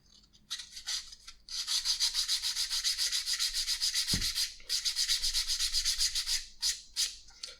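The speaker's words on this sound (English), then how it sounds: "So I have my sandpaper here, and then we're just going to go over this." Edges of a leather cardholder are sanded with 240 grit sandpaper in fast, rhythmic back-and-forth strokes, close and crisp, in two long bursts separated by a brief pause and a soft thump.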